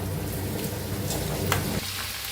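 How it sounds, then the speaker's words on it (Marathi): Chopped cabbage tipped into a pan of frying large chillies, giving a dense crackling sizzle that drops off slightly near the end. The sound is close and has no voices. "आता कोबी कापून घेतलेला घालून घेऊया"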